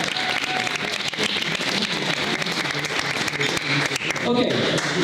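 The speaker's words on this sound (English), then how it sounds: "Applause to you." A live comedy show audience claps and applauds, a dense, steady patter of hands that runs throughout, with a voice speaking over it.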